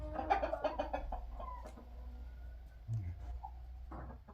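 Roosters in a pen, with clucking and throaty calls from several birds close by, faint and brief over low background noise; no talking.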